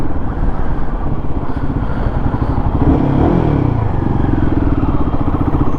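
A Royal Enfield Himalayan 452 motorcycle engine under way, a loud, steady, slightly buzzy drone heard up close from the rider's position, with wind rush over it and no speech.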